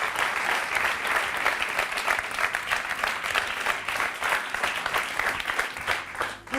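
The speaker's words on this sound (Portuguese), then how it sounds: "uma salva de palmas para o Nuno Borralho" Warm audience applause for a performer at a comedy show, dense continuous clapping with individual claps audible, moderately loud and steady throughout, no talking over it.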